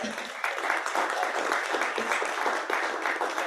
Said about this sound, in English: can we give her a big round of applause?